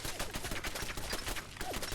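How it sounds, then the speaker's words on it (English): Rapid bursts of gunfire in Fallout: London as a turret is shot at, dense repeated shots filling the whole stretch at close, loud level with no talking. "I've got to try and shoot this turret"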